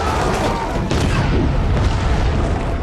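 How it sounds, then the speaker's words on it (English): A large explosion in a movie scene blows apart a wooden house, a loud, dense continuous roar of blast and crashing debris filling the whole stretch with a heavy low rumble. "Compared to the earlier landmines, this explosion truly deserved to be called art"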